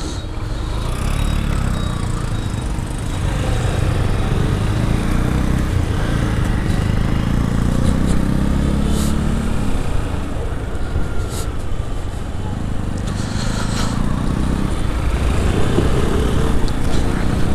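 A motorcycle ridden along a village road produces a loud, continuous low engine drone mixed with heavy wind rush, steady throughout with slight swells in pitch as it travels.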